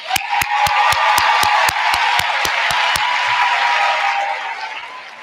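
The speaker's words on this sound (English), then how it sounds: "please join me in a round of applause for today's organizing team" A commencement crowd applauds steadily for a school of social work's organizing team, dense loud clapping with a few scattered whoops that holds for several seconds before tapering off near the end.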